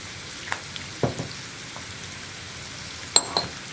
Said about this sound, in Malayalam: ഇനിയിപ്പോൾ ഉള്ളി ഒന്ന് ഗോൾഡൻ ബ്രൗൺ ഷെയ്ഡായി വരട്ടെ.